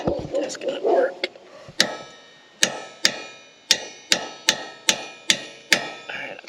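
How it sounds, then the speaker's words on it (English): A hammer drives a part into a broken tractor with about ten sharp metallic strikes at an irregular, roughly one-per-half-second pace, close and loud, after brief talk at the start. "I need to hammer it in a little more, get it in as far as I can."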